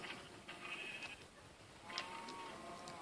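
Sheep on a Minecraft farm on PlayStation 3 bleating faintly a few times in short, wavering calls over quiet ambient noise.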